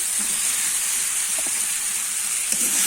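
Masala sizzling steadily in a hot pan as fried potatoes are added while cooking a rupchanda fish curry, a loud, even hiss and crackle with a few faint pops throughout.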